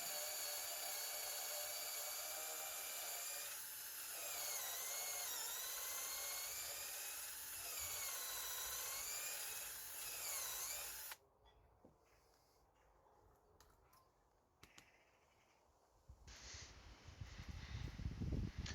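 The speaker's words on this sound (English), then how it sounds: "Some quality drilling action there." Power drill boring a clearance hole through a front timber of a shed frame, a steady loud whine with rising and falling pitch for about eleven seconds, then stopping abruptly, followed by quieter workshop clatter.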